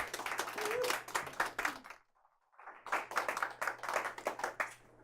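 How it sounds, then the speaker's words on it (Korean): A lecture audience gives a round of applause to welcome an author taking the stage for a humanities talk, a steady burst of many hands that cuts off briefly, then resumes just as dense and close. "큰 박수 부탁드립니다."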